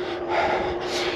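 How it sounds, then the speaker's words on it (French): Heavy, hard breathing from a cyclist pushing through an FTP power test, quick breathy huffs at close range, brief and alone. "Je m'essouffle un peu."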